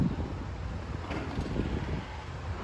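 Wind on a windy day buffets the microphone outdoors, a low rumbling roar with gusty fluctuations throughout, close and steady.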